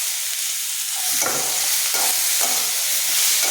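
Food sizzles and crackles in a hot pan with stirring scrapes as chopped tomatoes are added to frying onions, a steady close frying hiss throughout.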